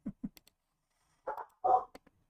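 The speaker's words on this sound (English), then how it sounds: "Off in the distance, you hear barking dogs." A dog gives a few short barks and whimpering yips, faint and distant against near silence.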